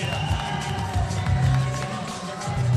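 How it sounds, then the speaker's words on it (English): Wrestling fans roar and cheer for Craven at an Australian Wrestling event, a dense, continuous crowd din with some whoops, loud and steady throughout. "Look at all the Craven fans going wild"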